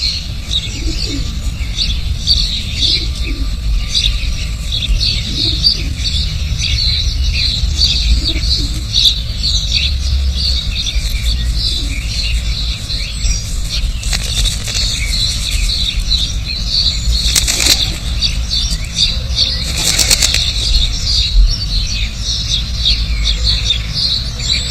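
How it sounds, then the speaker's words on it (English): London pigeons, a male in bowing courtship display, coo softly in the city amid a dense, continuous bed of urban noise and chirping birds, with no clear wingbeats standing out. "The bowing display of the male pigeon is a sign that spring has reached the city."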